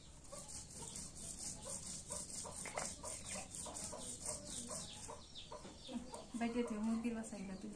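Chickens near a home chicken coop cluck faintly and repeatedly against a busy background, with a slightly louder burst of clucking toward the end.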